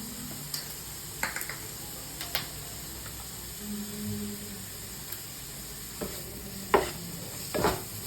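Egg thoran with coriander leaves frying in oil in a pan, giving a quiet continuous sizzle with sporadic scraping stirs and clicks scattered throughout.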